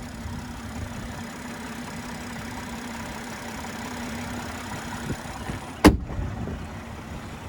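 A 2024 Ineos Grenadier Trialmaster's turbo inline-six engine idles steadily with a low, even hum, then a sharp mechanical clunk cuts in near the end before the idle continues.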